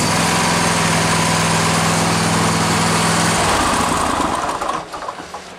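A lawn mower engine, started through its solenoid, runs with a steady loud drone that stops partway through and gives way to a rough, fading sputter.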